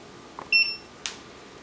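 An EcoFlow Delta Pro power station gives a short, clear electronic beep at close range while its Wi-Fi is being set up, followed by a faint click in an otherwise quiet room.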